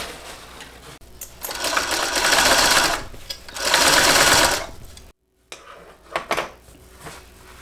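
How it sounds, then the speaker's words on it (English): A sewing machine top stitching a seam 1/8 inch from the edge while finishing a Brunella by Shamballa: two long steady bursts of rapid stitching, close and loud, then a brief stop and a few shorter clatters. "this top stitch is at 1/8 of an inch"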